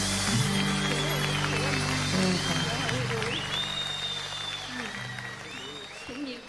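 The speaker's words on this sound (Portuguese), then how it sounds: "Salva de palmas para Jesus." A crowd applauds steadily throughout a church service, with voices and some sustained tones mixed in beneath the clapping.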